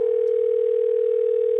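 A telephone dial tone heard while calling an electrician, a single steady, loud, unbroken tone that holds for the whole moment with nothing else over it.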